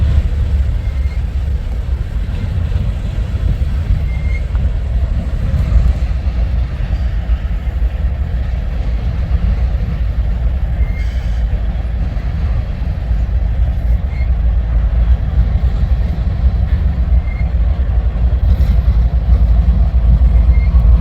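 A freight train rolls past at Hobson Yard in Lincoln, Nebraska, a loud, continuous low rumble and roar of wheels and cars that holds steady the whole time with no speech.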